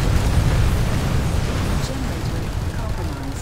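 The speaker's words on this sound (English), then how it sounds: "All I did was throw 1 grenade." A grenade explosion in Planetside erupts at full loudness as a heavy, rumbling blast that rolls on for several seconds while faint voices are heard underneath.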